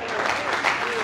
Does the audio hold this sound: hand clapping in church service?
yes